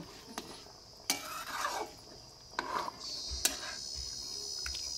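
Fried fish being stirred into a jackfruit and potato curry with lentil dumplings in a pan, a few sharp spoon scrapes and clanks over a steady faint hiss and background insect chirping, with no talk.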